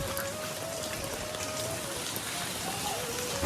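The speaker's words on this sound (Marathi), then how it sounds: "पाऊस पण आलेला आहे" Steady rain falls with an even, dense patter throughout, and a faint tone drifts in the background.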